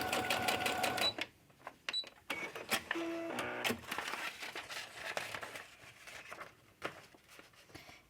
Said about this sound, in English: I'm not going to sew a straight line. I'm going to sew crooked